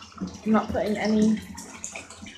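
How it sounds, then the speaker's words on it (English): Water runs steadily into a bathtub for a plain bath, a soft continuous rush beneath a person talking close by. "I'm just having a plain bath."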